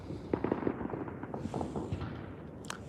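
New Year's fireworks, including a mortar shell, heard outdoors as a string of faint distant pops and crackles with one sharper burst near the end.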